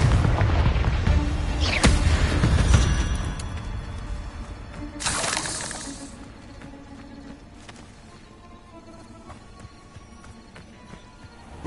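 Spell explosions from the Confringo fire curse in the Hogwarts Legacy video game, a few loud blasts and crackling bursts in the first half that fade into quieter game ambience, with no talking.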